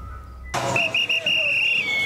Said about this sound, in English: that's an ice cream truck